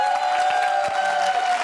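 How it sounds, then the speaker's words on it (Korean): Studio audience applause at a televised Korean startup talk show, a steady wash of clapping held at an even, fairly loud level for under two seconds with no voices over it. "여러분들 큰 박수로 환영해 주시면 고맙겠습니다."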